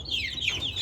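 Chicks of a frizzle breed peep and cluck nearby in short high calls, heard close up in a garden setting.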